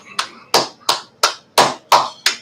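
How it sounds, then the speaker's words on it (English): Seven sharp, evenly spaced hand claps ring out in a slow steady rhythm at a religious gathering, close and distinct with silence between each. "All right, so let's clap it up"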